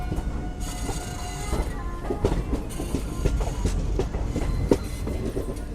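Gangasagar Express running from Jaynagar to Sealdah, a steady loud rumble of rolling coaches with rhythmic wheel clatter and occasional squeals, continuous throughout with no voices.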